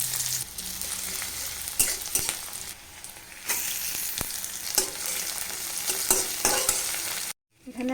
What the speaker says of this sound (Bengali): এখন আলু সিদ্ধটাকে একটু ভেজে নিব।